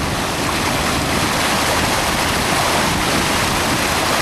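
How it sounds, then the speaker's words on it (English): Floodwater pours off a flooded road in Saskatchewan like a waterfall, a dense, steady roar of rushing water that stays loud and close throughout, with no voices. "And now we have Saskatchewan's very first waterfall."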